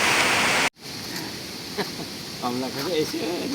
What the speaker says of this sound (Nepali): पानी परिरहेछ रिसै उठ्दो गरी।